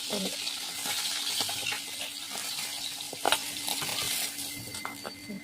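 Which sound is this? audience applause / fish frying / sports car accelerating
fish frying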